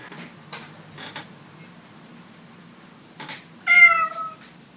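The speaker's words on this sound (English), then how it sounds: "one of whom has 2 pet cats, who you may see in this video" A pet cat indoors gives one clear, fairly close meow near the end, after a few faint soft bumps and rustles in an otherwise quiet room.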